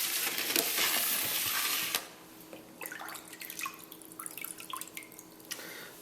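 Smoked trout drains on a rack, opening with a dense wet hiss and spatter that cuts off abruptly, then scattered close drips and small wet ticks continue irregularly.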